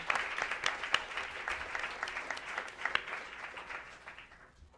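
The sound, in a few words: applause at a board meeting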